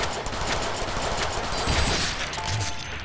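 Dense, sustained gunfire rattles throughout a fight in the video game Deadpool, a loud continuous barrage of shots with heavier thumps and blasts breaking through near the end.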